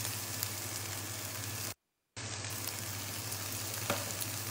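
Onion, garlic and ginger fry in oil with turmeric, curry spice, salt and black pepper in a pan for an Indian-style coconut shrimp curry, a steady close sizzle with a brief silent cut partway through.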